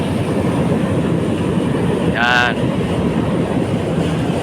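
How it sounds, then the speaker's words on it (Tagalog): A train passes on rails near a steel beam construction site during heavy rain and a storm, a brief swelling rumble with a tonal squeal rising out of steady rain and wind noise, with someone speaking. "may dumana naman na tren"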